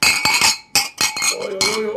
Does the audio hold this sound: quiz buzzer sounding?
no